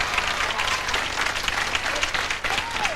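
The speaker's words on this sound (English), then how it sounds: "give us a round of applause" A crowd at a 1988 animal kingdom show breaks into steady applause, a dense continuous patter of clapping lasting a few seconds with faint voices mixed in.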